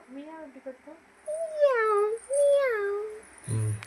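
A young boy imitates a cat's meow in a few drawn-out, rising and falling mews, close and clear, after an adult's brief prompt.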